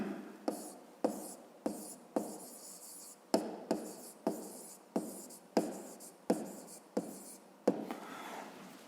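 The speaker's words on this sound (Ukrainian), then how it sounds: "записуємо розв'язання." A 5th-grade math solution is written out by hand: about a dozen close, rhythmic scratchy strokes in short bursts separated by brief pauses, with no talking.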